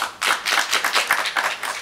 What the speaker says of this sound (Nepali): उहाँलाई पनि जोरदार ताली दिएर धन्यवाद दिउँ।